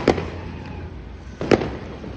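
Two single-shot Diwali firecrackers go off outdoors, each a sharp nearby bang about a second and a half apart, with a low background rumble between them.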